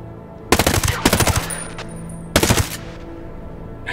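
Automatic gunfire in the video game Ghost Recon Breakpoint, two close rapid bursts followed by a third burst, loud and crisp against a quiet ambient background.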